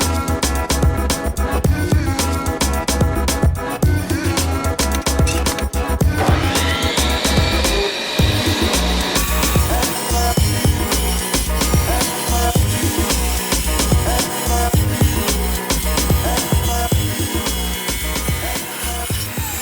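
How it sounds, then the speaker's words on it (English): Tile saw making a miter cut through porcelain tile, a loud continuous motor whine with grinding as the blade bites, pitch rising partway through and steady abrasive cutting throughout. "Let's miter cut this tile."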